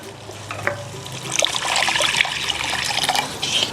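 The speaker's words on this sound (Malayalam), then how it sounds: "കുറച്ചുകൂടി വെള്ളം ചേർക്കാം." Water pours steadily into a pot of green pepper sardine curry for a few seconds, a continuous splashing trickle that grows slightly fuller, close up with no talking.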